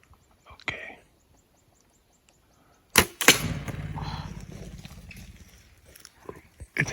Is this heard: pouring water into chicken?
no